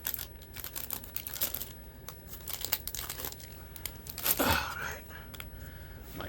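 Crinkly foil wrapper of a tightly packed 1993 Fleer Ultra baseball card pack being peeled and pulled apart close up, a steady rustle of crumpling and tearing with a louder rip near the end.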